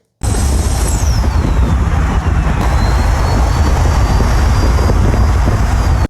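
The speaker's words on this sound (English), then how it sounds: "anytime you accelerate, you're going to hear the turbo spooling extremely loud" A loud, steady BMW B58 engine roar with a high turbo spooling whistle that rises then glides as the engine accelerates, heard close and without voices.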